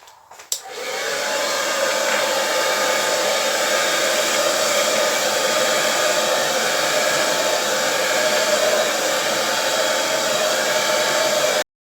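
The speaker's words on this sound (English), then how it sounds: "Once I've covered all the canvas with the blow dryer, what I then do is just blow around a little bit more and see if the paint moves." Blow dryer running continuously after a sharp click at switch-on, a loud steady rushing whoosh used to push poured acrylic paint across a canvas, with no talking.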